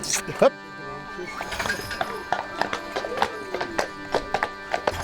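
Shire horses' hooves clip-clop steadily on a hard surface as they pull a cart, with faint clinks of harness, while a person talks over the sound.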